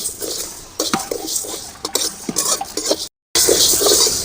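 A spoon scrapes and clinks in a pan while urad dal roasts, rhythmic close stirring strokes with a faint sizzle, then a brief gap before brighter frying hiss.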